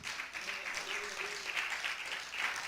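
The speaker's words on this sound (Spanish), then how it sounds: "Denle la bienvenida a la palabra del Señor con un fuerte aplauso en esta noche." Church congregation applauding at an evening service, a steady wash of clapping filling the room for a few seconds, with faint voices mixed underneath.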